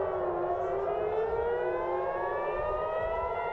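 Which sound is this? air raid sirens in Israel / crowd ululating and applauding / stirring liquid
air raid sirens in Israel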